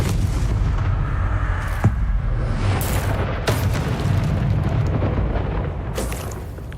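Confringo blasting spell explosions in Hogwarts Legacy, a steady roaring, rumbling blast wash with several sharper bursts breaking through, loud and sustained throughout.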